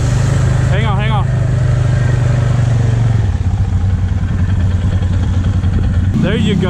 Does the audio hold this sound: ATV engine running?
yes